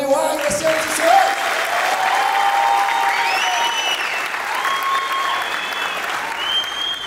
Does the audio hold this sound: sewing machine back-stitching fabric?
no